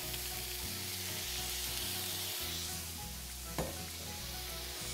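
Shirataki rice fries in a hot pan with a loud, steady close-up sizzle and hiss, joined by a brief stirring scrape partway through, with no talking.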